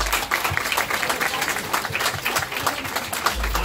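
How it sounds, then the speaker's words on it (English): Applause from a crowd at a National Night Out community gathering in a West Dallas park, steady dense clapping running nearly four seconds at moderate distance, with low thumps and background murmur underneath. "So let's give ourselves a big round of applause."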